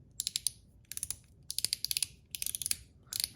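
Blasted Zirc One Pal mechanical slider fidget snapping back and forth in quick bursts of crisp, bright metallic clicks with short pauses between runs, close and alone.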